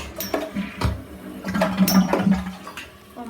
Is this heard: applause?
no